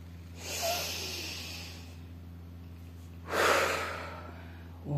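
Two deep, slow breaths taken while stretching, each a long airy inhale-exhale at close range, separated by a quiet pause, followed by the start of another breath; no speech.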